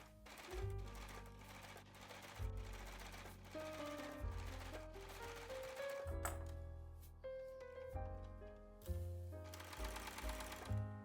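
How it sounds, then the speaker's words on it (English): A sewing machine stitches an elastic seam on a boat-neck crop top, running steadily for about eleven seconds under prominent background music. "continue sewing over those beginning stitches to finish your seam"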